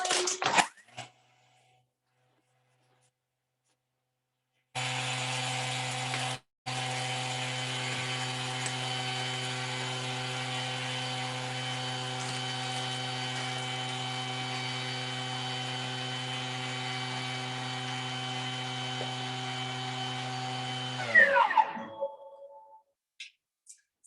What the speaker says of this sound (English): it's going to mill the sugar into icing sugar